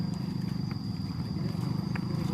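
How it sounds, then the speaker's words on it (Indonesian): A kuda renggong dancing horse walks beside rice paddies, its hooves clip-clopping in a steady, continuous rhythm under a constant outdoor hum, with a few faint higher sounds scattered on top. "Sampai di sini melihat kuda renggong di sisi sawah"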